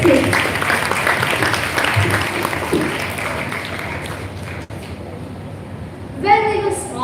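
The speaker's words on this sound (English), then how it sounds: "please welcome with a loud round of applause" School audience applauding to welcome a Grade 6 student speaker at a school event, a steady broad wash of clapping that holds for several seconds, thins out, and gives way to a voice near the end.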